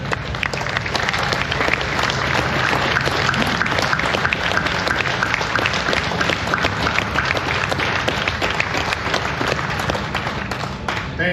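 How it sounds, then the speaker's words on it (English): A large crowd at the Sturgis Rally closing ceremony applauds first responders, producing dense, sustained clapping that stays loud and steady from start to finish. "give you all a round of applause"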